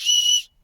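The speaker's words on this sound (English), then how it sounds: "another emergency whistle." Emergency survival whistle from an outdoor gear haul, blown once in a short, loud, shrill blast lasting under half a second before cutting off cleanly.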